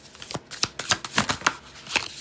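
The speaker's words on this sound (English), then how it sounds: "Shuffling here." Cards are shuffled in a quick series of crisp riffling bursts, close up and fairly quiet, with no talking.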